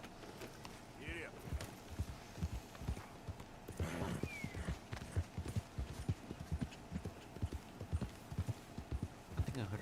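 Video game horse hooves clip-clopping in a steady trotting rhythm, crisp and fairly close, with a brief whinny and a voice talking over the hoofbeats.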